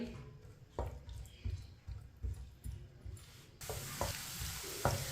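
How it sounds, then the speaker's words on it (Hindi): Finely chopped onion frying in oil and being stirred with a spoon. A faint sizzle sits under repeated scraping and tapping strokes, and the sizzle swells into a louder, fuller hiss partway through. "प्याज को इसी तरह चम्मच चलाते हुए ब्राउन करना है।"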